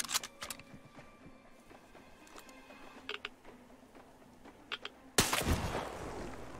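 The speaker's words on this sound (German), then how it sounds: "Hat er gerade noch geschossen?" Sharp gunshots from a firefight in the video game Metro Exodus: several scattered cracks over a low ambient bed, then a louder, denser burst of fire near the end, with no talk.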